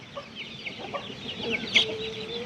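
A baby chick on a farm with fruit trees cheeps in faint, scattered peeps over a soft, steady background hiss.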